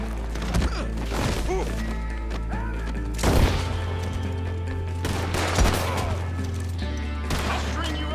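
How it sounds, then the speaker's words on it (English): Rapid gunfire from a first-person video game fills the scene in dense, overlapping bursts, with heavy impacts and crashes over a steady low hum, while players talk over the action. "I'm just about to start shooting people up."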